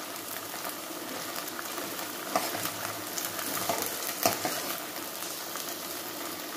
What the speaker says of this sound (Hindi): फलियों को हम अब थोड़ी देर फ्राई करेंगे।